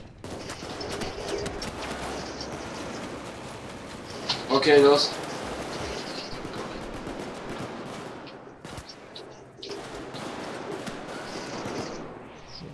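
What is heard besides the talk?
AK-5 rifle gunfire in video game Payday 2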